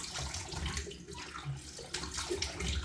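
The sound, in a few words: quick rinse with hot running water while shaving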